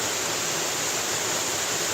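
A waterfall in North Alabama roars as a steady broadband rush of falling water, loud and unbroken throughout with no voices.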